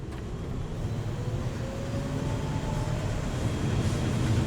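Distillation tower starting up in The Last Caretaker: a steady, heavy mechanical drone with a low rumble and a faint rising tonal whine, growing slightly louder and continuing without a break.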